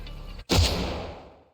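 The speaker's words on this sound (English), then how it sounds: "And there's a shot." A single sharp gunshot from the video game Reverse 1999 cracks out after a brief low rumble, then its boom decays over about a second into silence.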